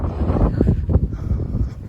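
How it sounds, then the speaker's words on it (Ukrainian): Gusty wind buffeting a microphone in low rumbling bursts, rough and fairly loud, with no voices, while shutters bang on houses nearby. "Одразу розумієш, що вітряно."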